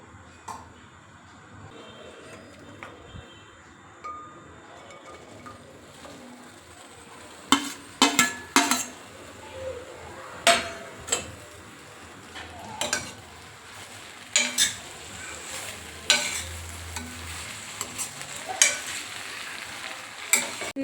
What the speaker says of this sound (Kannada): ಒಂದು ಸ್ವಲ್ಪ ಎಣ್ಣೆ ಹಾಕಿ ಬೆಂಡೆಕಾಯಿ ಲೋಳೆ ಹೋಗೋ ಥರ ಹುರ್ಕೊಳ್ಳಿ